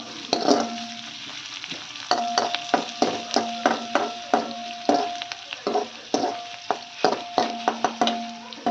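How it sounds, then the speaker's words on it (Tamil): Green chillies, onion and curry leaves sautéing in a pan, with an even frying sizzle under repeated rhythmic clinks and scrapes of a spatula stirring against the metal. "பச்சை மிளகா வெங்காயம் கருவேப்பிலை போட்டு வதக்கிக்கிட்டு இருக்கேன்"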